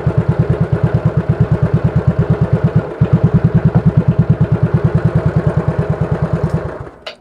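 A motorcycle engine idles steadily after a CDI wiring repair, a close, loud, even putter with a rapid regular beat that runs alone and fades at the end.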